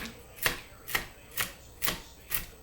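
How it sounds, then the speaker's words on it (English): A knife chops nuts on a board in five evenly spaced, crisp strikes, close and clear with no talking. "And chop them up with your knife."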